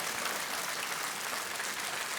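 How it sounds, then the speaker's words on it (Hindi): A TV quiz show studio audience on Kaun Banega Crorepati applauds a contestant, a dense, even wash of clapping that stays constant and fairly soft throughout. "एक बार फिर तालियों के साथ आपका अभिनंदन और बहुत बहुत बधाई।"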